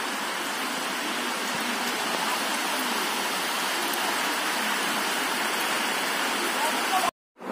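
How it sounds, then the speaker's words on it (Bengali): Torrential rain pours outside, a steady, roaring wash of noise like rushing water that holds an even level before cutting off abruptly near the end. "বাইরে এখন হচ্ছে মুষলধারে বৃষ্টি"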